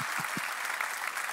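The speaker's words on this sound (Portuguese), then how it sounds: "vamos dar uma salva de palmas para essas pessoas" A church congregation applauds graduates of a discipleship course, steady dense clapping filling the room, with a few low murmurs at the very start.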